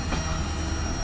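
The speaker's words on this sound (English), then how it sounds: "He's hauling 5 boxcars with his single GP40-2." A single GP40-2 locomotive hauls five boxcars on the Florida East Coast line, a brief, steady, broadband rumble of wheels and engine passing close by.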